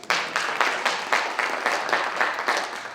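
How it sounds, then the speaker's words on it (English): A small audience at a stand-up comedy show claps in a brief round, moderately loud with individual claps audible in an uneven rhythm. "Now you could clap"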